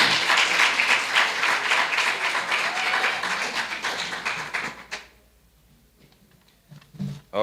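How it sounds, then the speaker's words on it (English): Audience applause at a school science fair awards ceremony: a dense, steady burst of many hands clapping for about five seconds, then cutting off into near silence with a faint sound near the end. "Yes, let's give them a round of applause."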